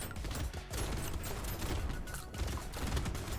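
Rapid double-barrel shotgun fire in the video game Brotato, dense overlapping blasts crackling almost continuously with brief dips.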